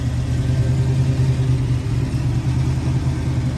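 A 1970 Chevrolet Nova V8 with a new exhaust rumbles steadily at close range, a deep even burble holding throughout without talk.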